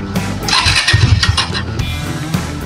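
A vehicle engine cranks and catches after a kinked hose was straightened, then runs with a loud, rough, pulsing mid-pitched idle for a few seconds close by.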